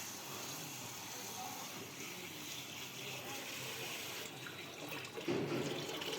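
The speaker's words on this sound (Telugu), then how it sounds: "ముందుగా సాబుదానాను తీసుకొని శుభ్రంగా కడుక్కోవాలి." Sabudana sago pearls are washed in water in a kitchen, with a steady faint running, swishing sound of water, alone and at low level, growing slightly louder toward the end.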